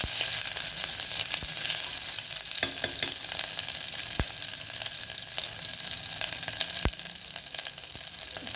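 Curry leaves and spices sizzling in a pan as they are stirred, a steady close frying hiss broken by sharp scraping clicks of the spoon against the pan.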